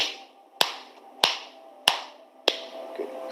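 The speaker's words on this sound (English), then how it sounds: "with the left hand keep slapping your wrist like this." A hand slaps against a wrist in four crisp, evenly spaced smacks, close and loud, with short quiet gaps and no talking.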